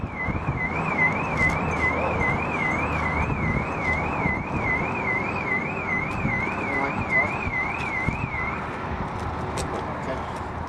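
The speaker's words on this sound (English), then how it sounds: "Your alarm's going off." A car alarm wails with a steady warbling tone throughout, loud over gusty wind and background talk outdoors.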